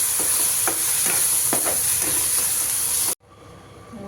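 Masala paste being stirred into chole curry in a hot pan, a loud continuous sizzling hiss with rhythmic spoon scrapes, cutting off abruptly near the end to a quieter background.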